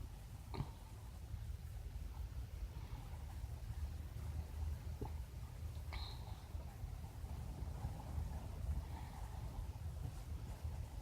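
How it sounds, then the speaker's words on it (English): Steady wind blows and buffets the microphone, a constant low rumble with a couple of faint clicks. "It's windy today."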